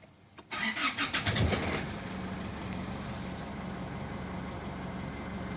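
An Isuzu D-Max pickup, with its battery and brake warning lights showing, cranks briefly and catches, then settles into a steady, close idle that runs to the end; no talking.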